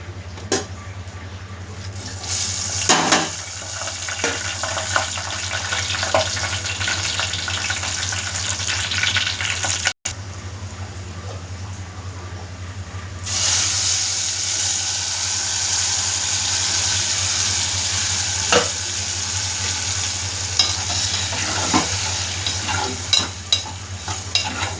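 Dried red chillies, garlic and curry leaves sizzling in hot oil for a tempering, a steady loud crackle with stirring scrapes throughout and a low hum underneath.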